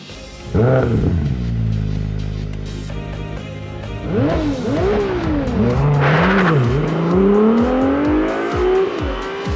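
A Ferrari 296 GTB engine revs up through rising gears, loud and close, each pull climbing in pitch before a shift drops it back down.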